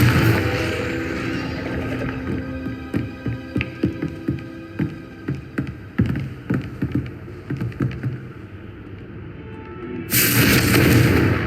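A Confringo fire spell fires in the Hogwarts Legacy video game, producing a series of rapid, punchy booming blasts over a low rumbling hum, followed by a louder burst near the end.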